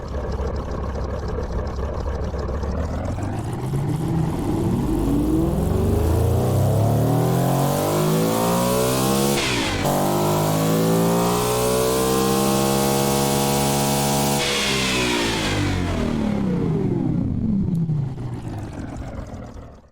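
A simulated 20-liter V16 engine in the car-building game Automation revs up from idle, climbs to a loud sustained high-rpm howl, drops and rises again before settling back, with no talk over it.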